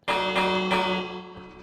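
A village bell in Minecraft rings out with a bright metallic strike, then a second strike follows shortly after, each leaving a long shimmering resonant ring that slowly fades, with no talking over it.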